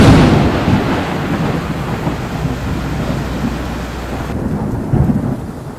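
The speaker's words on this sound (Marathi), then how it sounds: "पाऊस तर तुम्ही बघितलाच ननकून चालू आहे" Heavy rain pours down loudly and steadily near a roadside hotel on a bypass, with a deep rumble of thunder underneath and no one talking.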